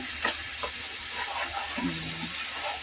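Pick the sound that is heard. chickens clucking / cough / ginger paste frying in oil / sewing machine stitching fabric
ginger paste frying in oil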